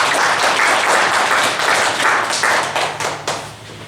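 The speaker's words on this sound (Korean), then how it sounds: "박수로 하나님께 영광 돌리겠습니다." Applause from a church congregation during a Sunday worship service, a dense, steady clapping that carries on for several seconds before slowly thinning out toward the end.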